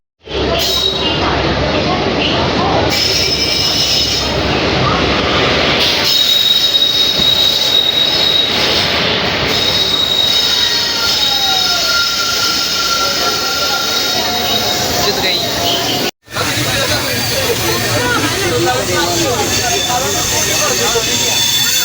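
Train wheels squeal loudly and continuously at a railway station, a shrill metallic screech over heavy rumbling and clatter, close by and dominating the whole stretch.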